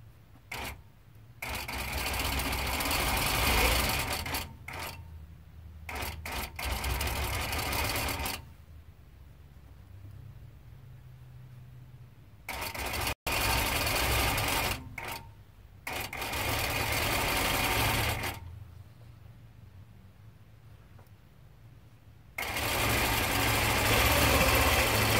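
A Nolting Pro-Series longarm quilting machine stitches binding a quarter inch from the quilt edge, running in several loud sustained bursts separated by quieter pauses.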